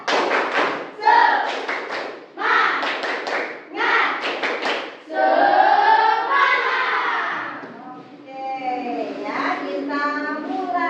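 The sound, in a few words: class doing tepuk semangat clapping chant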